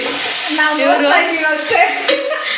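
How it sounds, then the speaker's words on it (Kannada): Fenugreek leaves, mint and coriander frying in oil for biryani give a steady, dense sizzle, with a voice talking over it and a few scraping stirs. "ಮೆಂತ್ಯ ಸೊಪ್ಪು ಪುದೀನ ಕೊತ್ತಂಬರಿ ಮೂರನ್ನು ಎಣ್ಣೆಲಿ ಚೆನ್ನಾಗಿ ಫ್ರೈ ಮಾಡಬೇಕು"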